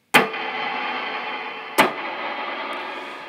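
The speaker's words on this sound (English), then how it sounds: "And then I have a heavy cloud reverb, pretty high mix, and about a 6 second decay." An electric guitar runs through a heavy cloud reverb with a high mix and roughly six-second decay. Two sharp strummed attacks swell into long, washy sustained tails, played alone and close.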